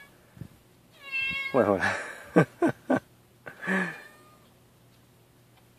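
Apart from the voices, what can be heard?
black cat Goma meowing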